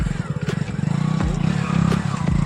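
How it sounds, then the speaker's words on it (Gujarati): A motorcycle engine catches and settles into a rough, chugging idle close by, with a few clattering knocks over the running motor. "બાઇક સ્ટાર્ટ થઈ ગઈ છે"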